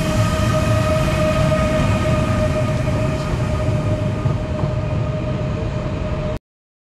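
A high-speed bullet train pulls out of a station in Uzbekistan with a steady, heavy rumble and a constant electric hum, holding level for several seconds before cutting off abruptly. Nobody talks.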